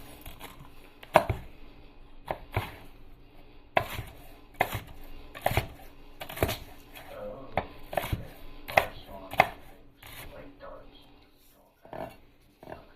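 A knife slices food into chunks on a cutting board for a meat grinder, giving a dozen or so sharp, close chops at an uneven pace over a quiet background.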